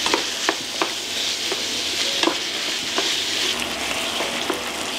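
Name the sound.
ground pork frying in a pan with onions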